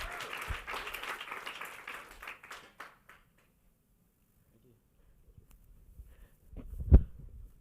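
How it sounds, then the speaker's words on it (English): An audience at a pitch competition showcase applauding, a few seconds of moderate clapping that trails off into quiet, followed by a low thump and brief voices. "Please give Callan a big round of applause for our first pitch."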